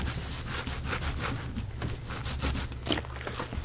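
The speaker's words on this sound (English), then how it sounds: "Rub some more." Wet wool felt is rubbed by hand around a witch hat resist form, a close, steady scrubbing rasp in quick repeated strokes with no voices.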